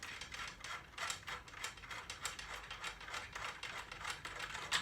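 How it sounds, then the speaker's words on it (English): Lugs being unscrewed and popped off a drum shell during cleaning and restoration, giving a steady run of close, light ratcheting clicks and mechanical ticks that repeat quickly and evenly with no voices. "I'm going to pop the lugs off here."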